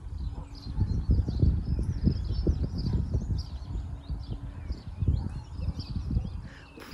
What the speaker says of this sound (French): J'ai filmé l'approche du cheval.